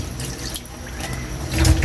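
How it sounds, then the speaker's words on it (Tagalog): A little water splashes into a cooking pot while pork adobo is being made, a short close pour that swells louder toward the end. "maglagay tayo ng kunting tubig"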